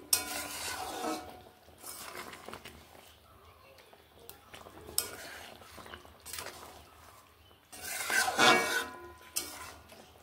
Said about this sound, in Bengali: কাঁচা সর্ষের তেল দিয়ে একটু এইভাবে নেড়ে নিচ্ছি, মিশিয়ে নিচ্ছি।